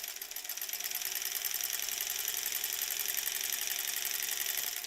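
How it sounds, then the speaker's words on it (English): Sewing machine running steadily while chain piecing granny square quilt blocks, a continuous fast mechanical whir with a rapid ticking rhythm, close and fairly quiet, with no talking. "So we're just chain piecing these all together again."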